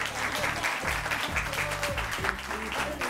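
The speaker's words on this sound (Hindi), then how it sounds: "हाँ तालियां भाई, तालियां।" A television studio audience on a morning talk show claps in a dense, continuous burst, fairly loud and close, with background music running underneath.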